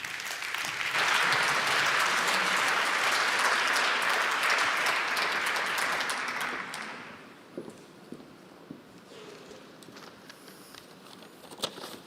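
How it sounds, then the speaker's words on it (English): An audience at a European Museum of the Year awards ceremony gives loud, sustained applause for a speaker. It lasts about six seconds, then thins out to scattered claps and hall noise. "Give a warm round of applause for Hans Looyen."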